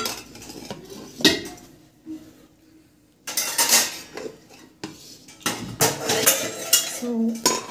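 Spoon scraping and clinking against a pot while tamarind rice is mixed, irregular metallic clatters and scrapes at close range, with a quieter pause in the middle before busier stirring resumes.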